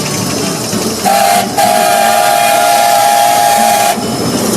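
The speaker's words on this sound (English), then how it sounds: "A toot of the whistle, please." A steam train whistle blows twice, a short blast then a long sustained one, loud and shrill over a steady background hiss and rumble.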